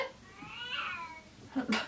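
A pet cat gives a single drawn-out meow near the microphone indoors, followed by a brief clatter of small household noises at the end.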